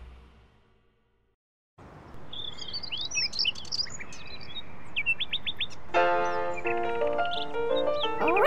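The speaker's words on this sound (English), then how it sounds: "Birds attract Groovy's attention." Cartoon birds chirp in quick, high twittering bursts over a steady hiss of background ambience, growing into a denser, louder run of tweets toward the end after a brief silent opening.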